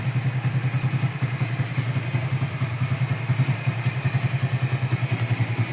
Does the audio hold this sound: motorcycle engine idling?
yes